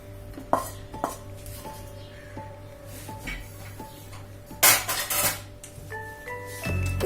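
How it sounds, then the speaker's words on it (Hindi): Roasted dates scraped from a pan onto a plate for a sugar-free date burfi. A spoon clinks and taps against metal, with a louder scraping clatter midway and faint ringing tones underneath. "अब ये खजूर को इस प्लेट में निकाल लूंगी।"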